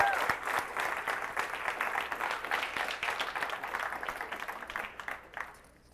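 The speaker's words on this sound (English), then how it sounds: "Another round of applause," Keynote audience at the IEEE-USA Future Leaders Forum applauding, a dense wash of many hands clapping at steady loudness that thins and fades out over the final second.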